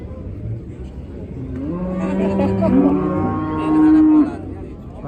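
Cattle moo loudly at an outdoor livestock bazaar, one drawn-out, rising lowing call swelling and then cutting off, with crowd noise underneath.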